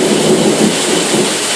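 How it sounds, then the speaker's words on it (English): Heavy rain pouring down in Austell, Georgia, flooding a front porch, a loud dense continuous roar of water with no breaks and no voices. "When it rains like this, it floods my front porch and stuff"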